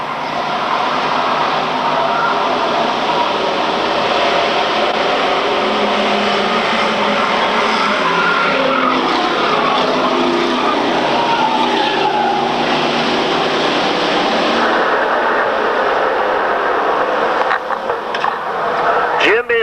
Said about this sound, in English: Jim Beeman in second spot, Potter third as they head into turn number 1.